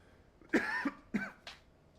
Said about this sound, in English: I got a cough here this morning.